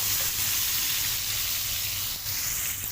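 Eggplant pieces frying in hot ghee give off a steady, dense sizzle that runs unbroken and fairly close for the whole stretch, with a faint low hum beneath and no voices.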